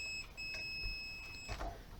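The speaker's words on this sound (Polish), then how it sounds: "miernik pokazuje, że jest przejście, pipczy" A multimeter's continuity beeper during repair of a 1500 W LDMOS HF power amplifier, sounding as one steady high-pitched tone that holds for about a second and a half, then cuts off with light probe clicks.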